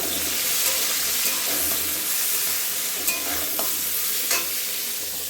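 Food fries in a pan in a home kitchen, giving a steady close sizzle with a few soft utensil knocks and no voices.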